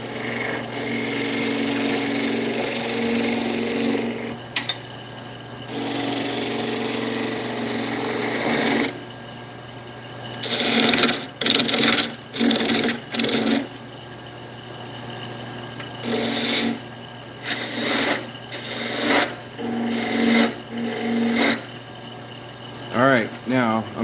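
Skew chisel cutting wood on a lathe during woodturning, a steady humming drone with rough scraping stretches and intermittent bursts as the tool meets the spinning wood, with a person talking intermittently.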